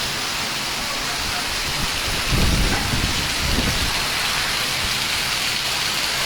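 Heavy rain pours steadily during a storm in Jhuddo, Mirpurkhas, with wind gusts swelling into louder low rumbles midway, a constant dense wash throughout.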